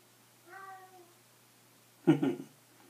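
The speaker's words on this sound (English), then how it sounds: "That's my little kitty cat wanting attention." A cat meows twice, a soft drawn-out mew followed by a louder, sharper meow, close by in an otherwise quiet room.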